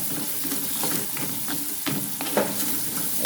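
Shallots and green chili fry in hot oil with a steady, close sizzle and crackle, broken by occasional scrapes and stirring clicks of a spoon in the pan, no voices.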